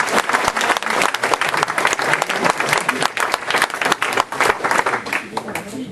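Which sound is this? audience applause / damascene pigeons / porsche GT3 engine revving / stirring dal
audience applause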